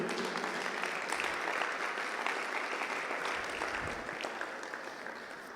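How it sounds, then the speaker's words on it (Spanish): Loud, sustained applause from a church congregation, steady dense clapping filling the whole stretch and easing slightly toward the end. "¿Puede darle un fuerte aplauso a nuestro Dios?"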